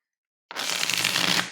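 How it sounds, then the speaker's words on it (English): A close, brisk riffle of tarot cards being shuffled, a continuous papery flutter lasting about a second after a moment of silence. "I already shuffled, but I wanted to shuffle a little bit more on camera."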